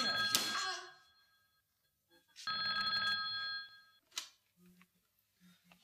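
An old bell telephone rings in a film scene, with two loud ringing bursts separated by a pause, followed by faint clicks and soft background sounds.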